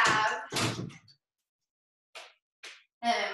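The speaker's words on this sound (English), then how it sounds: "I'm going to close the door." A room door is shut while dogs are nearby, giving a few short knocking thuds separated by silence, with brief bursts of talking at the start and end.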